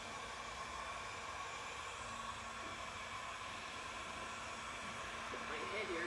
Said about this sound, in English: So I'm gonna take that heat brush again, or the heat dryer, and make sure it's dry.